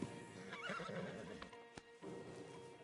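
In a video game, a horse whinnies with a wavering neigh while hooves clop and shuffle nearby, followed by a couple of sharp knocks, heard faintly.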